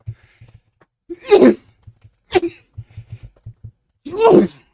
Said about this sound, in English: I'm going to have to sneeze, so I apologize.